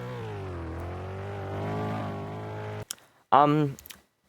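A Roblox Studio car drives with a steady synthetic engine tone for under three seconds, then cuts out, leaving a short sharp burst and a brief fading tail.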